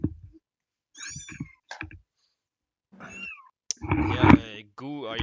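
A pet cat meows several times during a livestream, short high mews scattered across the moment with a longer, louder yowl near the end; some quiet voice-like sounds mixed in, no clear words.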